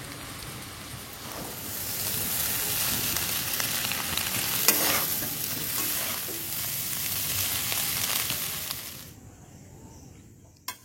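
Chowmein stir-fried with soy sauce in a pan hisses in a loud, continuous sizzle with scraping stirs, near and unbroken for about nine seconds before abruptly dropping away.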